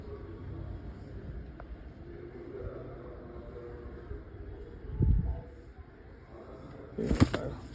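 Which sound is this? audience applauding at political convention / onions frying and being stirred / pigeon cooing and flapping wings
pigeon cooing and flapping wings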